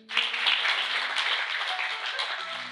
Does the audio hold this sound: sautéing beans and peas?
no